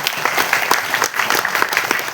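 A crowd at a public speaking event applauds loudly and close by, with dense, energetic clapping that keeps going without a break.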